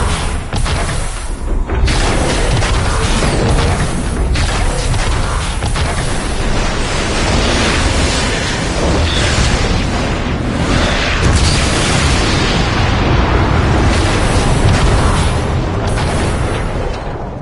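Explosions destroying a warp cannon in the Transformers: Fall of Cybertron video game, a dense run of loud booming blasts and rumbling bursts that follow one after another across the whole stretch, heavy and close.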